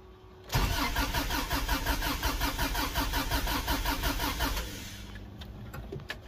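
A Subaru EJ22T turbo engine cranks over with its injectors unplugged, a loud steady rhythmic starter churn that begins abruptly, runs for about four seconds without catching, then drops to a quieter hum.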